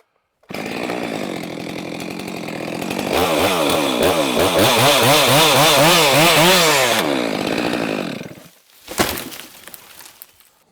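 Chainsaw cutting up from the underside through a wind-blown oak trunk, the engine revving hard and warbling as it bogs into the wood for several seconds, then easing off, followed by a brief crack and thud as the cut finishes; no talking.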